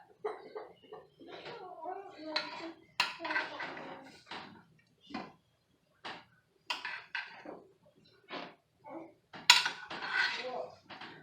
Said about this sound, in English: I'm making a plate for Virginia because she likes both kinds.